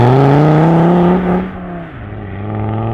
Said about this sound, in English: I tuned her a bit, so she's a bit more powerful and sounds a lot more awesome.